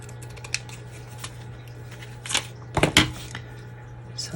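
Scissors trim paper for a small journal page, with a few crisp close snips and rustles, the loudest bunched near the middle, over a low steady hum.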